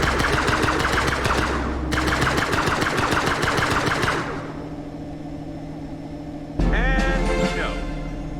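Plasma gun in the space-survival game Breathedge fires in rapid, rattling bursts for several seconds, pauses, then fires again with a warbling electronic whine, loud and close.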